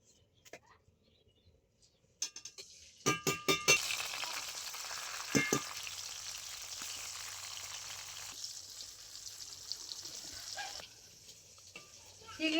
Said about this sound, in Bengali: মাছ ভাজার জন্য কড়াইয়ের মধ্যে আমি আগে থেকে তেল খুব ভালো করে গরম করে নিয়েছি এবার আমি চিংড়ি মাছটা ভেজে নেব